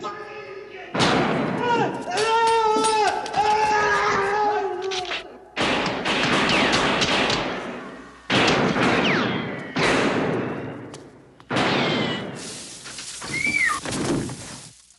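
Gunfire bursts from a film sequence recalled by Martin Scorsese, with loud repeated blasts and thuds in several separate bursts across the scene, mixed with shouting voices and some high whistling tones.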